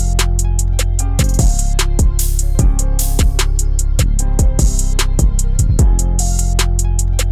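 A beat programmed on the Akai MPC 3.0 plays back as a steady loop, with punchy kicks, crisp hi-hats and layered melodic tones, loud and uninterrupted with no talking.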